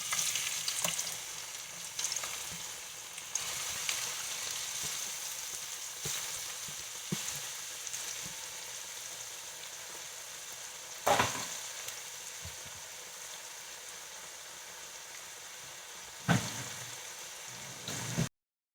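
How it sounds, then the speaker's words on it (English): Onions caramelize in clarified butter in a pot, giving a steady, soft frying sizzle throughout with occasional louder crackles and a couple of utensil knocks. "While we have our onions caramelizing"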